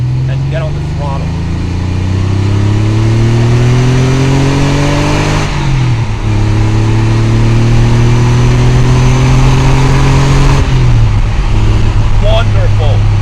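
A 1991 Porsche 911 Carrera 2 Cabriolet's engine pulls hard, revs climbing steadily through two gear changes with brief dips between, loud and close, while someone talks over it.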